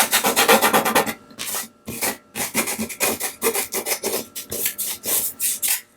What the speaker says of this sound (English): Now I'm going to just burnish it down.